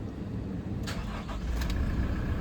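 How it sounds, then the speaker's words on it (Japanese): A VANTECH camper van's engine cranks and catches, giving a couple of brief starter bursts before a steady idle rumble settles in. The sound is close and moderately loud, with no voices. "じゃあね、早速エンジンかけていきます。"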